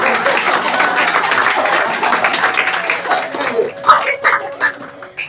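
A school audience at a farewell ceremony claps in a loud, dense burst. The applause thins into scattered claps near the end, and some voices sound faintly over it.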